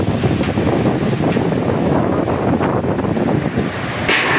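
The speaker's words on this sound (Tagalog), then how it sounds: "lumalakas ang hangin dito po, hangin at ulan dito po sa Ligaw Albay" Strong wind and rain batter Ligao, Albay, a loud, continuous roaring rush buffeting the microphone with gusty swells and no pauses, with no voices.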